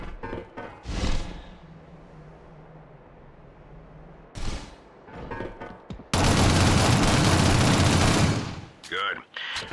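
Gunfire from the video game Shadowrun as the player shoots enemy bodies: scattered shots and short bursts with game voices, then a dense, loud volley lasting a couple of seconds.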